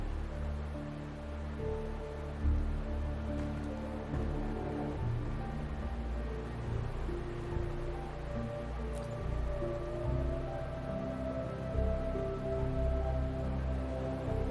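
Steady rain falls in the video game Wuthering Waves, a continuous soft hiss with a low tonal hum running beneath it for the whole stretch, with no voices.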